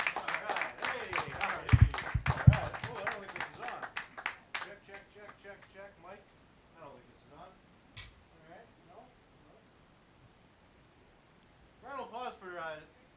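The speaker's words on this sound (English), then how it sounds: "Give him a warm welcome, please." Audience applause and clapping welcome a comedian to the stage at the Duncan Showroom, loud and dense at first, then thinning to scattered claps that fade under a host's voice, with a brief late burst of talk.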